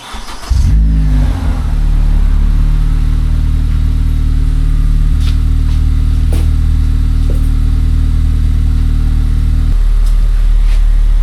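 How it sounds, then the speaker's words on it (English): A 9th-generation Honda Accord with an aFe Takeda axle-back exhaust turns over and catches, then settles into a loud, deep, throaty idle with a burbling exhaust that drops slightly near the end. "I'll do a cold start for you guys."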